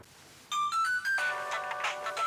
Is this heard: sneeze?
no